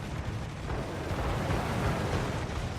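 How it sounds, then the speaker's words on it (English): A naval destroyer is sunk by torpedoes in the World of Warships naval combat game, a low, rumbling explosive roar with sustained booming that holds steady and fairly distant, with no talk over it. "there goes one of the AI destroyers sunk by torpedoes from the enemy destroyers"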